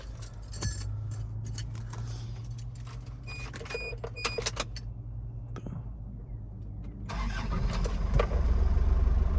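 Keys jangle in the ignition of a 1995 Isuzu Elf work truck, then the engine cranks and catches, settling into a loud, steady idle close by.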